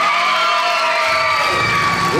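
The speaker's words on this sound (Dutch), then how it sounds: "Ook applaus voor Brittany" An audience at the Miss Fashion 2020 top-ten announcement cheering and shouting for a finalist, a short, loud burst of high whoops and crowd noise close by.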